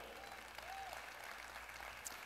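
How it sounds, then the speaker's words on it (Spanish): A church congregation applauding, a soft, even patter of many hands clapping, faint and distant throughout. "Denle un aplauso al Señor."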